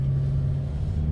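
A car's engine pulls hard with the throttle floored as it climbs out of a dip, giving a steady, loud low drone and rumble that holds level with no voices over it.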